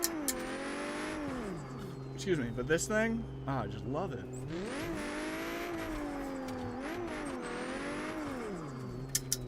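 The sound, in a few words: Mustang engine revving while drifting in a video game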